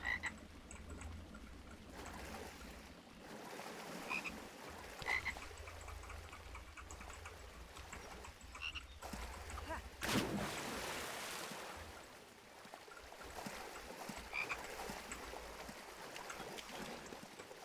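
Frogs croaking in the video game Lego Harry Potter Years 1-4: a dense, steady chorus of croaks over a constant low ambient bed, with one brief louder burst partway through.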